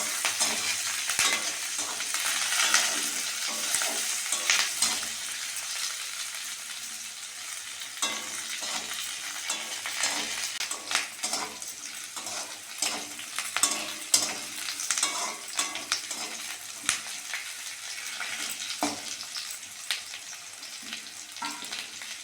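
Curry leaves frying and being stirred in a pan for semolina poha, a continuous loud sizzle with repeated scraping stirs close up, no voices.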